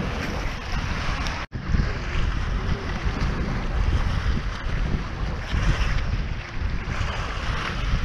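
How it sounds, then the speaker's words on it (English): Force 5 wind on the Beaufort scale roars steadily and loudly across open water, buffeting the microphone with a dense, gusty rush that barely lets up. "the gusts would be strong enough for a shortboard windsurfer"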